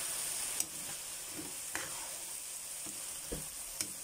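Vegetables and chicken curry are stirred in a pan over a faint, continuous sizzle, with light intermittent clicks of the spoon against the pan and no talking.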